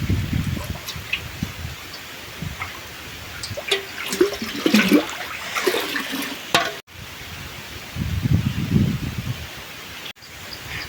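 Water is scooped and splashed from a lotus pond in several sloshing pours, with rustling between them, fairly close and with no voices.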